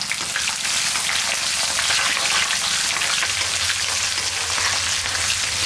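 About 200 grams of whole shallots frying in a pan for a tamarind curry make a loud, dense sizzling hiss with popping crackles, steady throughout, joined by a low hum in the latter half.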